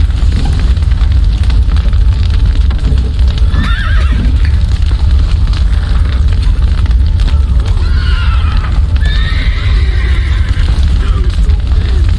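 Horses whinny and neigh twice, loud and close, in the video game The Witcher 3, over a dense rumbling background of crackling and commotion, with hooves clopping faintly.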